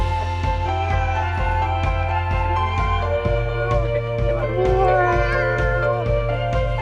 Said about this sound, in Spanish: Vaya gatitas tenemos, ¿eh?